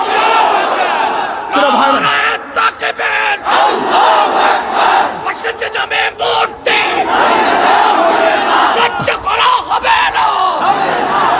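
A large crowd at a rally shouts the slogan "Naraye Takbir" in loud, repeated call-and-response bursts, the roared chants rising and falling in waves.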